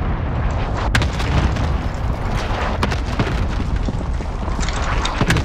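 Cluster mine strike explosions in the Call of Duty Warzone video game, a dense rapid barrage of booms and pops rolling continuously, with sharper cracks standing out near one and three seconds.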